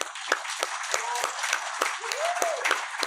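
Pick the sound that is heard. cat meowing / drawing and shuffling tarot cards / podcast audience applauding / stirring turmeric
podcast audience applauding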